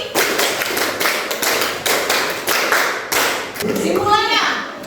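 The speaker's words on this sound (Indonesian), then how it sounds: "Oke, tepuk 5 2 kali." Children in a classroom clap hands in a counted rhythmic pattern, a series of evenly spaced sharp claps in quick groups, with a voice speaking near the end.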